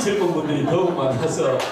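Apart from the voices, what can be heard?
No everyday noises stand out.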